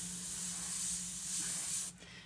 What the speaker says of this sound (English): So, I'm going to spray it into my little pot over here.